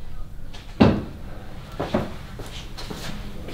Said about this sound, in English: I can hear it still creaking.